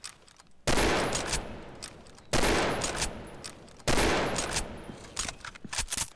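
Three loud, sharp M24 sniper rifle shots ring out in the video game Combat Arms, evenly spaced about a second and a half apart, each with a long echoing tail.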